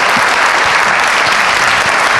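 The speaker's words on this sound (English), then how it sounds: "Big round of applause, please, for our panel." A room full of people gives a round of applause for a panel at the close of an evening Q&A event, thick continuous clapping held at an even, loud level from start to finish.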